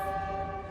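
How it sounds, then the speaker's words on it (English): A train at a station gives off a loud, steady tonal drone, like a sustained horn or whistle, close by and continuous through the short moment with no talking. "sorry for the noise, it's the train here"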